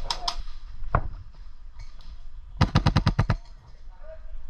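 Gunfire in a multiplayer shooting video game: a couple of early shots and a single sharp crack, then a rapid burst of about eight evenly spaced shots, loud and close, with faint background game noise between.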